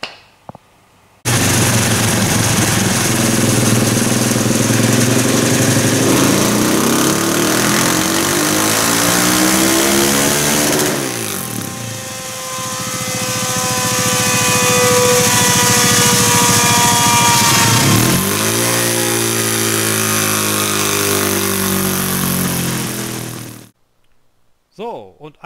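Husqvarna 701 motorcycle single-cylinder engine, 2017, with the Powerparts cover removed, revving loudly and steadily for about twenty seconds, dipping briefly midway before climbing again, then cutting off abruptly.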